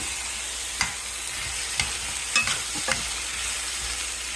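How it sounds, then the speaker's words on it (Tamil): Two tomatoes sautéing in oil for paneer bhurji, a steady close sizzle with a few light spoon scrapes and taps as the pan is stirred, no talking. "இதையும் அப்படியே எண்ணெயில் வதங்கட்டும்."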